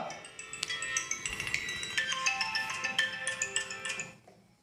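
A mobile phone ringtone plays during a Hindi-language biology lecture, a bright repeating electronic melody with clinking tones that sounds clearly for about four seconds before stopping, with no talking over it.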